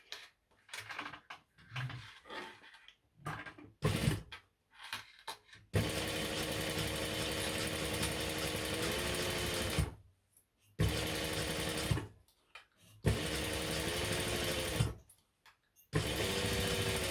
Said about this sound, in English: now we're going to top stitch along both those edges